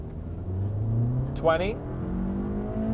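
A 2020 Toyota RAV4 TRD Off Road with a 203-horsepower engine pulls away hard from a standstill, engine drone rising in pitch as it accelerates, with a voice counting over it.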